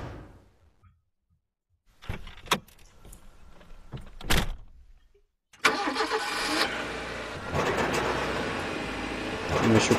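A car in a horror video game, with a door and power-window sounds and an engine starting, then a loud steady engine drone as it drives on, no talk.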